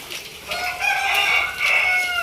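Breeder roosters on a farm crowing in long drawn-out calls that overlap, with clucking mixed in, close and fairly loud with no talk.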